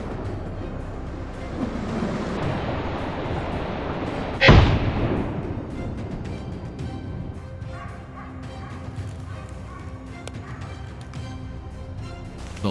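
One sharp, loud gunshot cracks out in the field during a wild boar hunt, its blast trailing off into a fading echo over background rustle, with dogs barking and yipping nearby both before and after it.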